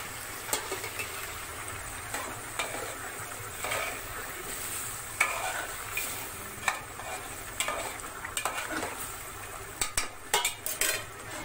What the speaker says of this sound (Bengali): মাংসটা নেড়ে দিই